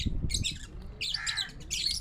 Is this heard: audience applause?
no